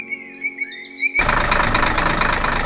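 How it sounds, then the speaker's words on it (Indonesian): A tonal whistle-like sound gives way abruptly to a loud, steady engine rumble from a red tractor working in a green forest in an animated cartoon, continuing to the end. "traktor merah sedang bekerja keras di tengah hutan hijau"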